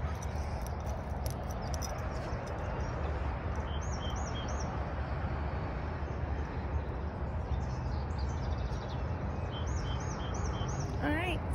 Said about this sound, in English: I love the sound of the birds and nature